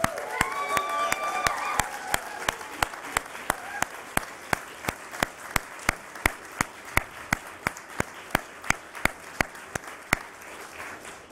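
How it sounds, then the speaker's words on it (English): Steady applause from an audience at the Nasdaq opening bell ceremony for Rimini Street's listing, with sharp regular bell or gavel-like strikes cutting through a dense, even wash of clapping that holds for the full stretch. "let's have a big round of applause"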